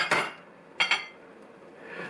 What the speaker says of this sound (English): We're going to add the cauliflower,